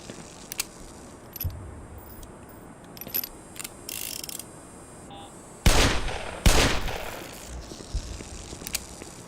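Turret gunfire in the Black Mesa video game: short sharp mechanical bursts and clicks scattered through the clip, with two louder broadband bursts near the middle, set against a busy low game ambience.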